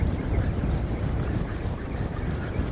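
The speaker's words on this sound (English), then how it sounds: "I didn't think it was going to be as windy as this" Steady wind buffeting the microphone on a winter sea-fishing trip in the Solent, a continuous low roaring rush with no pauses, loud and close throughout.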